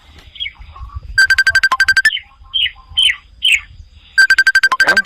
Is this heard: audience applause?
no